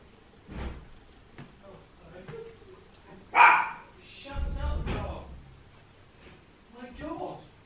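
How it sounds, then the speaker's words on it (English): A single dog barks indoors in a few sharp, moderately loud bursts, with one especially loud bark in the middle and a whimpering yip near the end, while a person talks quietly between the barks. "My dog's going to shout at the unknown."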